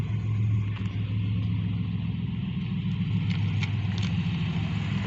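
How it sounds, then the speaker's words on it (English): A TVR sports car driving past just after a red C6 Corvette, its engine a steady low rumble that holds loud and close throughout with no voices over it. "we have the red C6 Corvette here. And that's followed by one of the TVRs."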